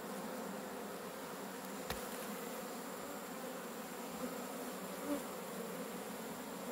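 Red honey bees buzz around an opened hive in a faint, continuous hum, with a few individual bees flying close by in brief passes.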